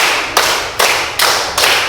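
Students clapping in unison during a counted classroom ice-breaker, four loud, evenly spaced group claps, each ringing briefly before the next.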